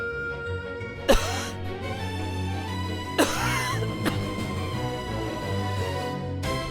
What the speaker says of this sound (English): Smoke billowed up, making the witch cough violently.